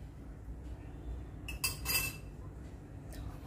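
A utensil stirring melted malai mixed with a pinch of baking soda in a pan, giving faint scraping and a couple of brief metallic clinks near the middle over a quiet background.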